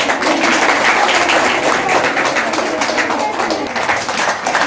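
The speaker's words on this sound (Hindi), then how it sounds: "ताली हो रही है, ताली ताली" Audience applause at a certificate presentation ceremony for 82 trained young women, a steady dense patter of clapping from a crowd continuing without a break.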